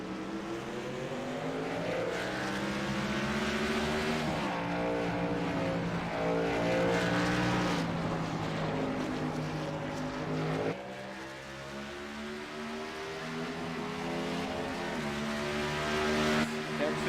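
A race truck engine roars at full throttle around a track during a truck series all-star race, loud and continuous with pitch rising and falling through gear changes, while a commentator talks over it.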